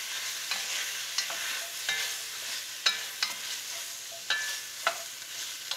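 Browned beef coated with flour sizzles steadily in a pot for a Beef Bourguignon, with a spoon scraping and stirring in a few sharp clacks over the constant frying hiss.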